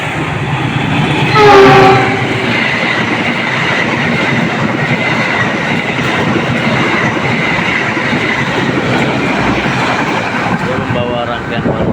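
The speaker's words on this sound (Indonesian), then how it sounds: "persiapan kereta api Turangga masuk di jalur" The Turangga passenger train rumbles into platform 2 with a steady, loud rolling roar and wheel clatter, a brief horn-like tone near the start, and a station announcement voice speaking over it.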